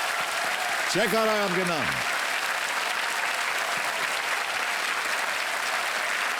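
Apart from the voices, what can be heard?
studio audience applause for the contestant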